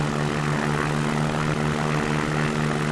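Aircraft engine in the X-Plane flight simulator powering up for takeoff, a loud, steady droning roar with a strong low hum that holds throughout without a break.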